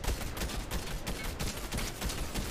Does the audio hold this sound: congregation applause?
no